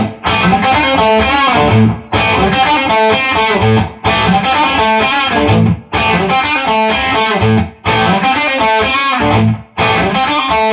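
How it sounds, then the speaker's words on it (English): An electric guitar runs through an overdrive pedal, playing loud, sustained chord phrases in a steady rhythm with short gaps between them, and no voices. "Overdrive."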